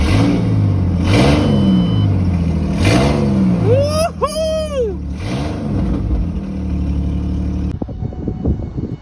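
Ford Mustang V6 fitted with new headers, revving hard: several loud, rising and falling throttle blips, close and aggressive, with excited voices shouting over the engine noise.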